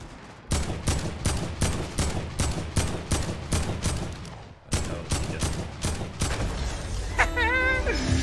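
AK rifle fired in a video game, sharp rhythmic single shots in quick succession, two long strings separated by a brief pause, loud and close with a faint voice-like sound near the end.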